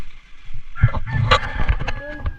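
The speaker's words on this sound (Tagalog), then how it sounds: "Ang dami silang manok na alaga dito." Several chickens cluck and chatter close by in short, uneven bursts, with a few louder squawks mixed in.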